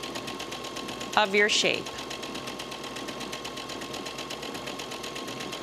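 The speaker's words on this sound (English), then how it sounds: "just stitch your buttonhole right along the edge" A sewing machine runs steadily while stitching a buttonhole stitch along the edge of a fabric table runner, humming close by under a voice.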